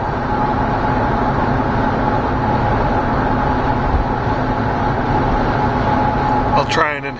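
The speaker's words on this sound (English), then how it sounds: "that's the sound of Iowa's highways." Iowa highway traffic: a steady, broadband roar of passing vehicles that rolls on without a break, with some talk over it and a brief chirping sound near the end.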